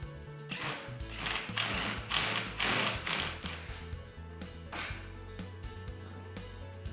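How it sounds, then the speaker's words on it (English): Rapid ratcheting clicks and metallic gear-like rattling come in bursts as a handle is screwed into a rocker recliner's mechanism, fairly close and continuous over a low mechanical hum. "Attach the handle and screw into place."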